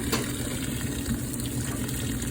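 An old washing machine fills with hot water, a steady rushing, gurgling flow running without break at moderate level.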